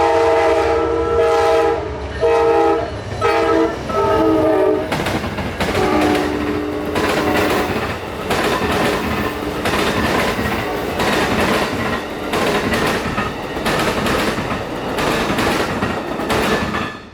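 A train horn sounds in several long blasts near Plant City, Florida, then a train rumbles past up close with steady clattering wheels and loud broadband noise.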